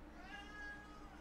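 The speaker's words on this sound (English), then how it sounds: "Meow." A cat meows once in the Arcadian Atlas video game: a single clear, drawn-out, slightly rising tone over a steady background hum, with no talking.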